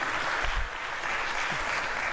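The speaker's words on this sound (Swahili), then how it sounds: "Naomba tupige makofi mengi sana kwa mtaalamu wetu kutoka ITU." A summit audience gives a round of applause for an ITU expert after a talk, a broad, even wash of many hands clapping at moderate distance, steady and unbroken throughout.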